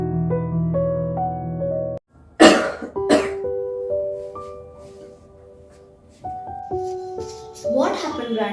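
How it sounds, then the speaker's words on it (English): An elderly man coughs in a few harsh bursts near the middle, set among sustained musical tones with a spoken voice in the background. "What happened, Grandpa? Why are you coughing?"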